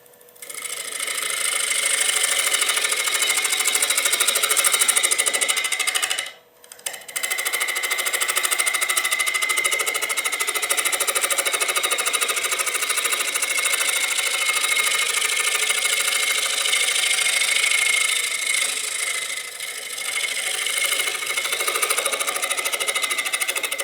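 A wood lathe turning at around 900 RPM while a carbide tool cuts the inside of a bowl, giving a continuous high-pitched whirring hiss with a short break partway through.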